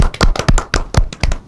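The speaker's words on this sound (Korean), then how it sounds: "박수." A small audience clapping to welcome a co-host at a Korean talk event, a short burst of loud, uneven hand claps close by, with no speech over it.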